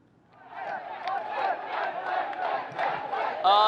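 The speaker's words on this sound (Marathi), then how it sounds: "शिवतीर्थावरती मनसे कार्यकर्ते मोठ्या संख्येने जमलेले आहेत" A crowd of MNS party workers gathered outside Shivtirth in Mumbai, chanting and cheering together in loud, rising waves, fairly near, with a sharper burst of shouting at the end.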